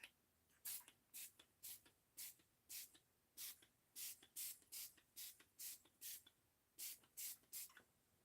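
A spray bottle of glimmer mist fires repeated short misting bursts onto an art journal page, each a sharp hiss, in a quick uneven rhythm, close and fairly quiet.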